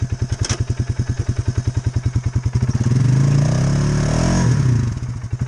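Polaris Sportsman 570 ATV engine stuck in a swamp, a steady rapid putter that swells into a loud sustained revving roar, then eases back, close up with no talk.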